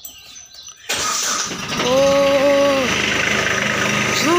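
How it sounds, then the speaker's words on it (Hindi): A tractor engine cranks and catches, then settles into a loud, steady diesel idle with a rising whine, close by; a voice briefly exclaims as it starts. "कर दिया ट्रैक्टर स्टार्ट"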